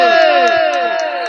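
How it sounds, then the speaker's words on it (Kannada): An audience at a live stage music show cheers and claps loudly and continuously, a dense, close crowd roar that fills the whole moment. "ಜೋರಾದ ಚಪ್ಪಾಳೆ."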